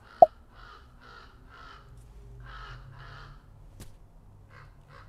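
A crow caws repeatedly in a rhythmic series of harsh calls, fairly distant, after a sharp knock at the start; no speech.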